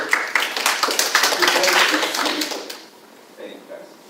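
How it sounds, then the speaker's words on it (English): A small audience claps after a speech at a club speaking contest, a dense patter of hands for a couple of seconds that fades out, followed by faint voices. "It's already worth a round of applause for you."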